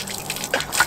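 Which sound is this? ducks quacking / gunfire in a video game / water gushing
water gushing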